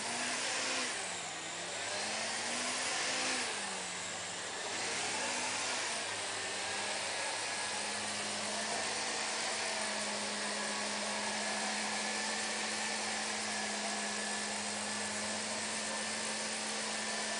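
A coaxial RC helicopter from the Novus line runs at full throttle while climbing, giving a steady, loud electric whine with a constant motor tone and broad rotor hiss that hold without a break.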